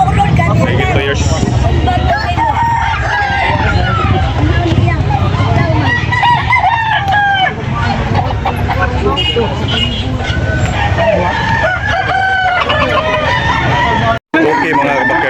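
Roosters crow repeatedly at a chicken farm in Carbon, Cebu, their loud, close calls overlapping one another, with traffic rumbling in the background and people talking nearby.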